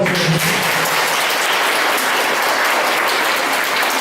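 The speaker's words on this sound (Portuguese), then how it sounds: "dá uma salva de palmas para Jesus." A church congregation gives a loud, dense round of applause during a sermon, a steady wash of clapping that fills the full four seconds without a break.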